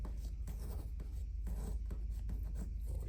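A blade or cutter scrapes and rasps through the metal casing of an aircraft oil filter from a Piper Cherokee 180D, a close, repeated rough rubbing in short strokes.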